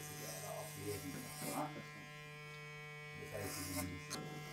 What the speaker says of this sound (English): when you're taking loads of long hair off, it can sometimes get caught up in the clipper